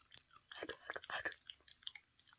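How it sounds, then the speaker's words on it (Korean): A Jindo dog eats food close by, with quick wet chewing and crunching bites in an irregular rhythm, fairly quiet, while a person murmurs softly in the background. "아이고 잘 먹네."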